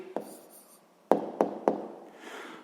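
A pen writes a math answer by hand on paper: a few short, close scratching strokes and taps in quick succession, faint and alone.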